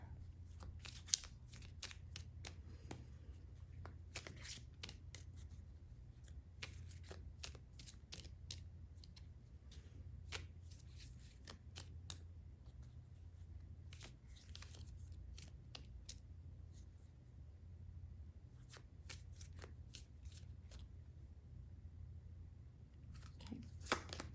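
Law of Attraction cards are pulled and handled for a pick-a-card reading. Faint, scattered papery flicks and rustles repeat irregularly over a quiet low hum for a long stretch, with no speech.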